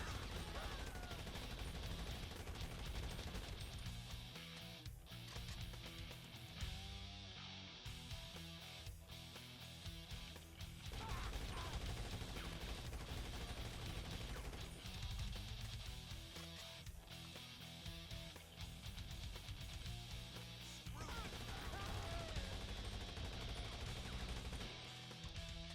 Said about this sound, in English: Now the mag dump to really assure he won't get up.